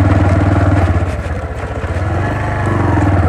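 A motorcycle engine runs close by in hilly outdoor terrain, a loud steady throbbing idle with a pulsing low rumble that dips briefly and then picks back up.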